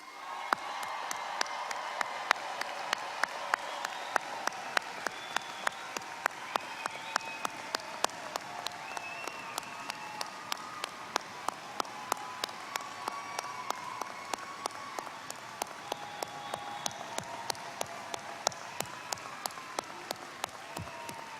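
A large university commencement audience applauds the graduates at a spring ceremony, a long, dense, steady wash of clapping with scattered cheers, sustained without pause throughout.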